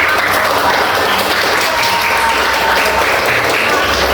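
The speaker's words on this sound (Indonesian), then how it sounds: "Oke, tepuk tangan buat Pak." A classroom of people claps steadily and loudly throughout, a dense sustained round of applause.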